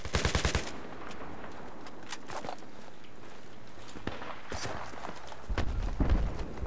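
Several players shooting at once in an online war game: a quick automatic burst up front, then scattered single shots and cracks of varying distance, closing with heavy low rumbling fire.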